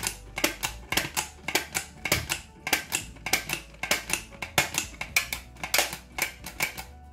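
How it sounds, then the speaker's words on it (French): Rapid plastic clicking and squelching pumps from a slime gun filling a slime ball repeat in a steady, hurried rhythm, close and fairly quiet, with no voices. "vous venez tout simplement appuyer pour remplir votre ballon de slime"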